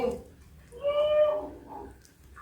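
A cat meows several times at close range, with drawn-out, plaintive cries, in a home kitchen setting.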